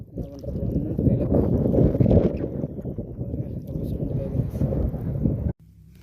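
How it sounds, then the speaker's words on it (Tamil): Strong wind roars across the microphone while fishing from a boat, a loud rough buffeting rumble that holds for several seconds and then cuts off abruptly. "காற்று வேறு பயங்கரமாக அடிக்குது"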